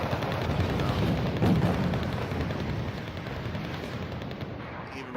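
Machine gun fire from the Wargame real-time strategy battle, a continuous dense rattle of distant gunfire and artillery rumble blending into a steady roar over the length of the clip.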